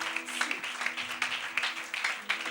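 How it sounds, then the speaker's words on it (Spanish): A church congregation claps for the Lord Jesus, a short burst of lively, fairly dense clapping heard at moderate distance, with some pulsing rhythm and faint voices mixed in. "Denle un fuerte aplauso al Señor Jesús."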